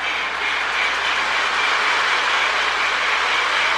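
A Lionel MPC model steam train sound board plays a steady, hissing chuffing rumble, continuous and moderately loud at close range, with no talking.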